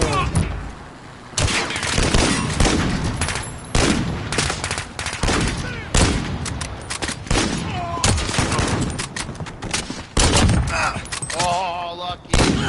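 Gunfire in the video game Call of Duty Modern Warfare comes as dense bursts of automatic rifle shots and loud impacts, repeated throughout, with a player talking over the shooting.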